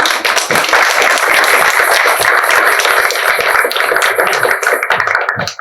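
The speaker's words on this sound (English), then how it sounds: "let's applaud the man himself once again" Audience at a book launch applauding loudly and steadily, dense clapping sustained through the whole stretch with no voices over it.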